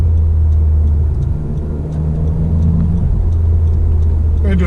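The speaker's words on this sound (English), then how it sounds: "Man, I cannot believe how fast this thing revs up." A 2019 Honda Civic Type R engine revs while stationary, a loud close mechanical drone that rises and dips with quick pitch changes and no voices over it.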